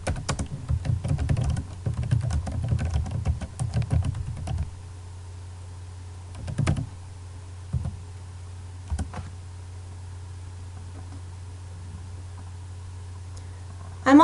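Fingers type a comment on a computer keyboard, a close, rapid patter of key clicks for several seconds, then a long pause broken by a few isolated taps.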